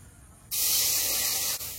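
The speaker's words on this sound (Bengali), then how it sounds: "কড়াইতে জল দিয়ে দেবো।" A sudden loud hiss bursts out as water hits a hot pan (karahi) while cooking pointed gourd, holding steady for about a second before easing slightly.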